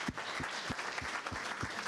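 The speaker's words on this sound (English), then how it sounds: "Give yourselves a round of applause." A summit audience gives a round of applause, the soft, steady clapping sounding distant and quiet, with a few separate claps standing out against it.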